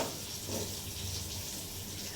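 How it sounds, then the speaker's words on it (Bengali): Soft, steady sizzling of pointed gourd frying in a pan, faint and continuous, with no talk. "পটলটা ভাজা হচ্ছে"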